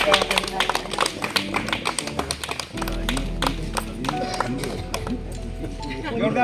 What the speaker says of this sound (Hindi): उनके लिए भी जोरदार ताली।